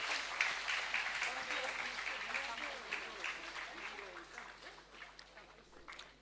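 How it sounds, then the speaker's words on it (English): An audience at a celebratory event for young scientists gives a round of applause, clapping that is moderately loud at first and slowly fades out. "Let's have a big round of applause for these young bright minds."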